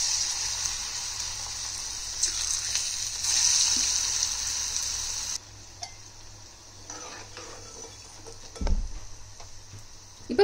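Kunukku batter fritters dropped into hot oil, a soft continuous frying sizzle with faint bubbling, easing after a few seconds, then a light clatter near the end.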